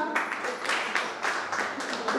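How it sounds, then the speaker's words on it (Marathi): An audience at an inter-school mathematics quiz competition for National Mathematics Day in Karad claps for a team, making a short, moderately loud patter of many hands in uneven waves. "त्यांच्यासाठी टाळ्या वाजवा"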